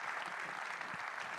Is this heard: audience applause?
yes